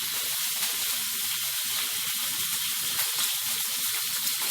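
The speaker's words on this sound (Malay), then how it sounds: "Tumis selama 5 minit." Blended herb paste sizzles and fries steadily in hot oil in a wok, a continuous bright crackling hiss with no pauses and no voices.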